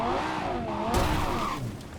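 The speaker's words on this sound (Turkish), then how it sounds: "Bu araba da çok kayıyor be." A car sliding in Cyberpunk 2077: a wavering engine whine and tire squeal, then a louder burst of revving and road noise, close and loud, with no talking.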